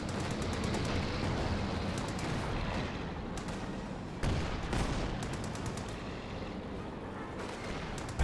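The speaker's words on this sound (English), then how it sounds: "Sherm tank does throw a high explosive rounds on its flank" Tank cannons fire high-explosive rounds in a Company of Heroes 2 battle, a rapid stream of sharp gunfire and booming blasts over a steady rumble of combat. A single heavier blast stands out just past the midpoint.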